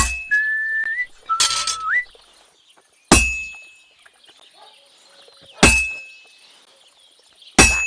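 A blacksmith's hammer strikes metal in a medieval forge in Kingdom Come Deliverance II, with three sharp ringing clangs spaced a few seconds apart, each decaying slowly, and brief whistled notes before them.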